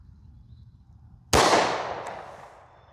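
A single sharp, loud gunshot from an S&W M&P Shield .40 pistol on an indoor range, firing .40 S&W Speer Gold Dot 180gr hollow-point ammunition, with a long reverberant decay afterward.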